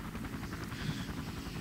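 A helicopter flies in Minecraft, a steady dense rotor chop with whooshing engine noise that fills the whole moment without any pause.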